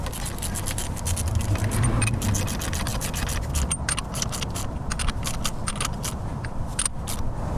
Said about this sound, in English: So I'm just going to use my ratchet to tighten it up.